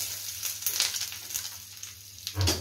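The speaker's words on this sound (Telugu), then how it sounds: "ఇందులోకి నేను పోపు పెట్టేస్తాను" Hot tempering poured into raw onion chutney, giving crackling, spitting sizzles in short bursts with a brief louder hiss near the end; close and fairly faint, no talking.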